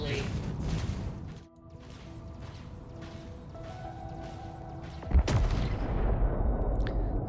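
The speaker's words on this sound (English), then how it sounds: "It's a pretty good explosion." An explosion in the Star Citizen video game: a sharp, loud blast hits late in the clip over a rumbling battle backdrop of rapid mechanical bursts, with voices talking faintly in the mix.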